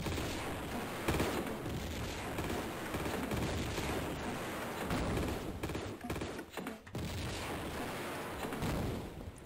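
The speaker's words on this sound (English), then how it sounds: "I'm gonna have to use this one," Gunfire and explosive blasts from a grenade launcher in Tomb Raider II Remastered, Tibetan Foothills level, fill the scene as a dense, continuous barrage of booms and cracks with a few brief dips, fairly quiet overall.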